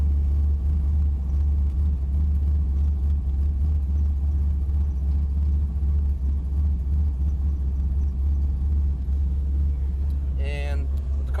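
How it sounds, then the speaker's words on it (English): A car engine fitted with a Holley Dominator and 4L80e transmission idles steadily after start-up, a constant loud low rumble running throughout, with a brief higher whine near the end. "get the car fired up"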